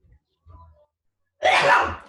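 A single loud, close sneeze bursts out after a couple of soft breaths.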